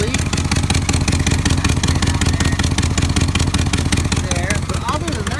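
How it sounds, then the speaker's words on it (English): A 2001 GMC Sierra 2500HD with an LQ4 6.0-liter engine and an exhaust leak idles close by, giving a rapid, even ticking pulse over a steady mechanical drone. "As you can hear, there's an exhaust leak"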